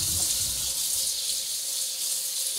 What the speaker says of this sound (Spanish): Así que con un poco de agua queda totalmente limpia.